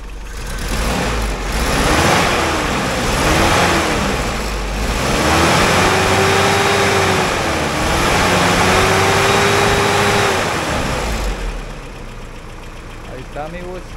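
A 22R pickup truck engine idles roughly, then revs up and down in several swelling cycles, its pitch climbing and falling before settling back to idle, loud and close.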